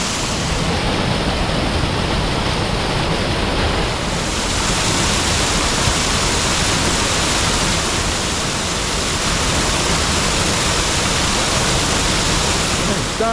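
Steady, full roar of a waterfall in a wooded glen during rain, constant broadband rushing water, loud and close for the whole stretch.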